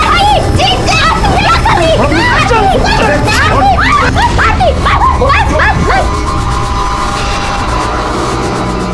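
Dog barking and yipping in a busy indoor scene, repeated bursts over steady crowd babble and raised voices, fading near the end into a low hum.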